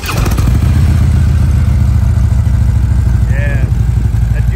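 A 2014 Harley-Davidson Electra Glide Police motorcycle with Rinehart dual exhaust idling loudly up close, a steady deep throbbing exhaust rumble, with faint voices briefly in the background.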